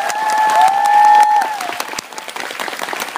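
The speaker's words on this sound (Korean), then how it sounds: "다시 한번 박수 부탁드리겠습니다." Audience applause at Kim Soo-hyun's Lemona fan meeting in Seoul, a loud burst of clapping and some cheering, with sustained tones lingering early before the clapping thins out.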